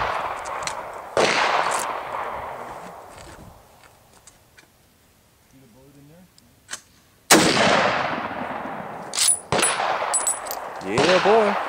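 Several gunshots at a shooting range, loud sharp cracks with ringing decay, clustered in bursts with quieter gaps between.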